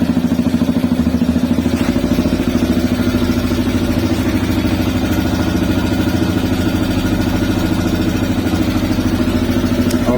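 A CSC RX3 motorcycle engine idles steadily at about 1500 rpm, a close, even mid-pitched putter with light mechanical clatter running unchanged for the whole stretch.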